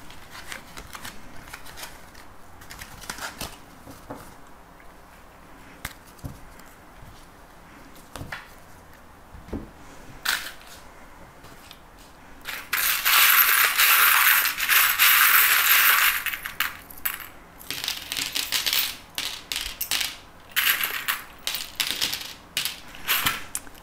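Fortune-telling cards being gathered and small charms cast during a card reading: scattered light taps and clicks, then a dense burst of shuffling and rattling midway, followed by quick clattering bursts, close and fairly quiet, with no talking.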